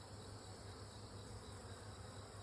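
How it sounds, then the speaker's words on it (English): A dense, steady hum of many honeybees rises from a frame pulled out of a backyard hive, sounding close and continuous with no speech. "Oh wow, lots of bees."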